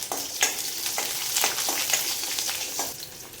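Small whole shallots and urad dal frying in hot oil for a tamarind kuzhambu, a steady close sizzle broken by a few sharp crackles and spoon scrapes, with no voices.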